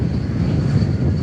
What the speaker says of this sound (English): As we check out this United Airlines Airbus